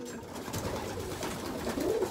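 Pigeons cooing inside a loft, several soft overlapping coos with a fluttery low murmur, close and moderate in level, growing slightly busier toward the end.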